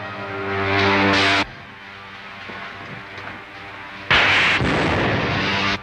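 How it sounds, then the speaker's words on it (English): Loud, sustained roaring blasts from a spaceship weapon fired at another ship's tail in a 1939 Buck Rogers sci-fi serial, two long explosive bursts with a quieter rumble between them. "Fire a blast into the tail service as I level out."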